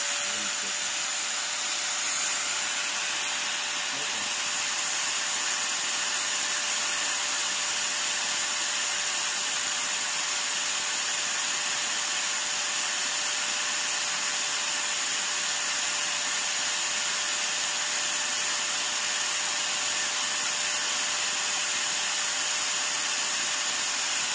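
A Hanskonner HAG9012 angle grinder runs at its top speed setting, six, producing a steady, loud, high-pitched whine that holds constant throughout without pause.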